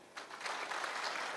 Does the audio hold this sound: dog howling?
no